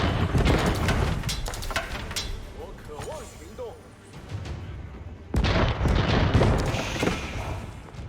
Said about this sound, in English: Bombards firing against the fort of the Huntress